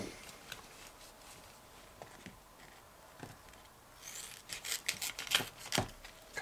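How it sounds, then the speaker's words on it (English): Scissors cut through a strip of velcro for a homemade ammo card, giving a run of close, crisp snipping and rasping bursts that cluster toward the end over a quiet room. "Take your scissors."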